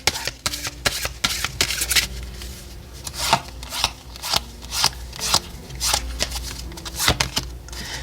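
Oracle cards are shuffled by hand during a tarot reading, giving close, crisp riffling and slapping bursts in an irregular rhythm with short pauses between, fairly loud and with no talk.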